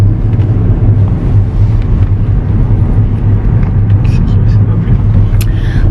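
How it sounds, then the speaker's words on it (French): Steady low engine rumble and road noise inside a moving car, loud and continuous, with people talking over it. "là on est dans la voiture pour le récupérer"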